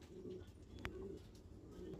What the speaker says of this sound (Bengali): সড়ক বাজির পায়রা